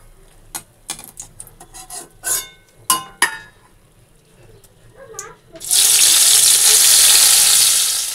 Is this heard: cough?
no